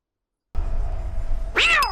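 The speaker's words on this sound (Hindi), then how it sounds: "बिल्ली ने डरा दी।" A cat in a horror film scene lets out a sharp, loud meow near the end, after a low, tense ambient rumble begins from silence.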